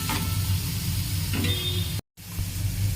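Green chillies cooking in a covered pan, a steady close sizzle and hiss with a brief stir partway, then a short silent gap before the sizzling resumes.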